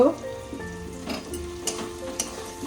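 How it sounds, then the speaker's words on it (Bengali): Cashew paste sizzles softly in a hot pan as it is stirred, giving a steady low crackle with a few light scraping taps, close and moderately quiet. "কাজু বাটাটা দিয়ে নেড়ে"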